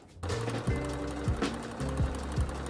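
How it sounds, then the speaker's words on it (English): A sewing machine stitches a seam on leopard-print pants, running in short steady bursts with rhythmic mechanical clatter and brief pauses between runs, close and alone with no talk. "now I'm gonna go back through and sew this side"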